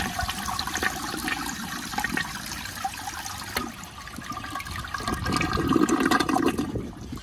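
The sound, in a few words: 1978 Eljer toilet flushing with weak gurgle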